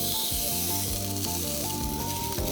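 A toothfish fillet fries skin side down in a lightly oiled pan, giving a steady, close sizzle with no speech.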